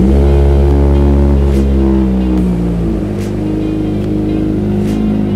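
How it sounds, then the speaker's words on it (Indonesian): A motorcycle fitted with an Austin Racing GP1R exhaust with black ceramic coating revs loudly and close up. A deep, rumbling engine note holds strong throughout, easing slightly partway before rising again, with no talking. "jadi ini warna suara dari Austin Racing GP1R"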